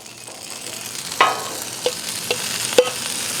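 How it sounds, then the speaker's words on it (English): Carrots fry in canola oil on a Blackstone griddle for steak hibachi, giving a continuous close sizzle with a few sharp scrapes and taps of a spatula on the flat top. "Put down my canola oil. And the first thing I like to put on are the carrots"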